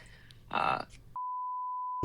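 A steady, flat censor beep tone cuts in after a burst of talking, holding for nearly a second before speech resumes.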